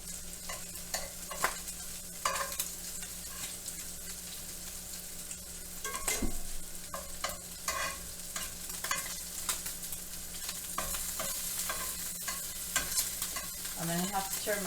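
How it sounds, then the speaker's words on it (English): Bacon strips sizzle steadily in a pan on a smoky stovetop, with a broad crackling hiss broken by sharp clanks and scrapes as the pieces are turned, and a low hum running underneath. "I'm going to turn my bacon again"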